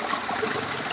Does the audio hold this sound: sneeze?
no